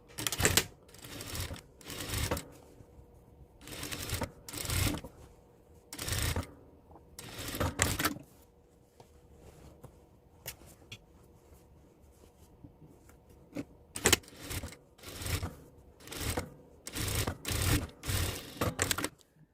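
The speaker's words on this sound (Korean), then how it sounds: "넥 안단 양쪽 모두 박음질 해주시고요" A sewing machine stitches both sides of the inner neck facing on a twisted dress, running in repeated short bursts of rapid mechanical whirring separated by brief pauses, close and clear with no talking.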